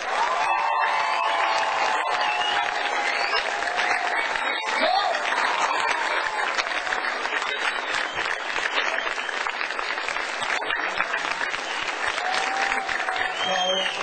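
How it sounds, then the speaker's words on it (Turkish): A crowd at a Ramadan entertainment evening gives a master performer sustained, steady applause. The clapping is dense and continuous with light cheering, and it holds evenly for the whole stretch. "en güçlü alkışlarınızı büyük ustad Harun Bey'cim."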